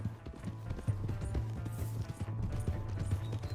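Horse hooves clip-clop rapidly at a gallop in Red Dead Redemption 2, a fast, steady rhythmic pounding close by, with low rumbling beneath and no clear voices.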